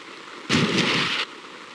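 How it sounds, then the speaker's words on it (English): Rushing river water in the 1997 Windows game Wishbone Activity Zone during a raft-steering level: a loud, dense whoosh that starts abruptly, holds for under a second and cuts off, alone without voices. "Is it me? Or is this river getting faster?"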